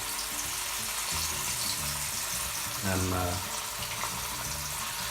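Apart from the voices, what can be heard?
fish frying in hot oil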